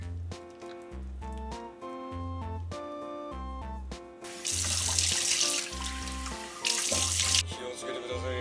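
A tap runs in two loud bursts of rushing water during morning face washing at home, with steady rhythmic background music throughout.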